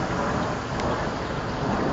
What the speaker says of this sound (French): Même si j'entends très bien le tonnerre.